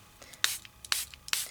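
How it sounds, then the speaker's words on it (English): A spray bottle mists water onto Distress Stain in three quick, crisp bursts at close range, each a short hissing spritz with small trigger clicks in between. "Give it another little spray if I want."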